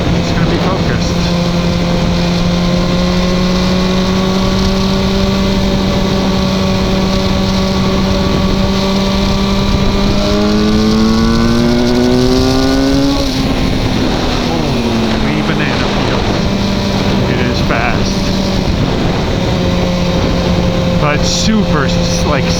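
A BMW S1000R motorcycle engine revs up with a smooth, steady drone that rises in pitch, then drops and settles, playing continuously and close throughout under light background noise.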